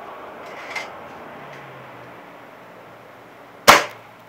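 A .22 pellet rifle fires at an old tablet, one sharp loud crack near the end of a mostly quiet stretch, preceded by a faint softer knock.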